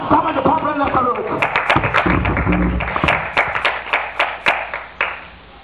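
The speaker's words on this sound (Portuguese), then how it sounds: "Dá uma salva de palmas nessa noite." A church congregation claps at an evangelical service, loud, sharp handclaps that grow steadily more rhythmic after a voice speaks at the start.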